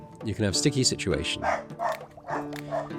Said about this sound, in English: Apologies for the dog, he's gone a bit mental.